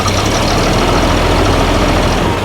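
A big straight-six engine in a bus idles close by, a loud, steady low rumble with an even knocking pulse, running slightly rich, alone with no voices.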